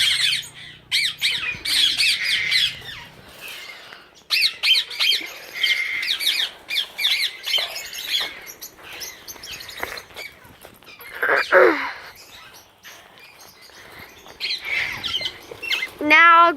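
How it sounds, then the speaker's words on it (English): Indian ringneck parakeets kept as pet birds give loud, repeated squawks and shrill chirps close by, in dense bursts with short pauses, and one sharp rising call near the end. "These are Indian ringnecks."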